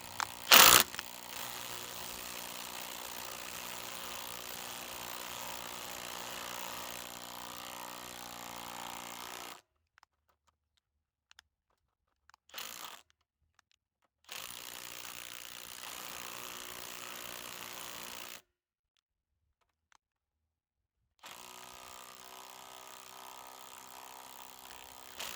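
Electric motor with a B2-version brake switching off: mechanical ratcheting and gear whir runs steadily, cuts out abruptly, then returns in separate bursts broken by silent gaps, with a sharp click at the start.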